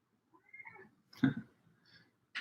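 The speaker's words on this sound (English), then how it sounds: "Cat's walking around." A house cat gives a few short, quiet meows close by, separated by brief silences.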